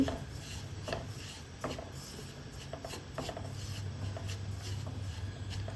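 Dry semolina (upma rava) being roasted in a kadai, a steady gritty rasp and scrape of stirring that runs continuously for several seconds with soft irregular scuffs, fairly close and without any voices.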